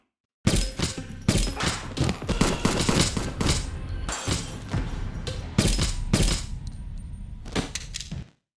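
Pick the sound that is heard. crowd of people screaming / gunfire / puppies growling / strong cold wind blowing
gunfire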